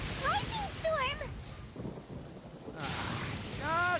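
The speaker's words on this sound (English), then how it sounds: "Uh-oh! Lightning storm!" Thunder from a lightning storm in Genshin Impact rumbles low and heavy through the middle of the clip, with game character voices chattering before and after it.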